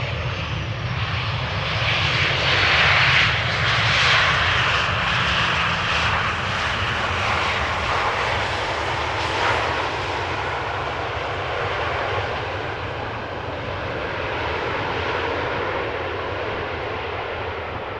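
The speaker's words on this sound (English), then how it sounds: "This is Royal Air Maroc arriving from Casablanca, flight 850-737-800, touchdown after 2 hours and 15 minutes of flight." A Royal Air Maroc Boeing 737-800 arriving from Casablanca touches down at Amsterdam Schiphol, its jet engines a loud, steady roar that swells early and then slowly fades as the plane rolls out.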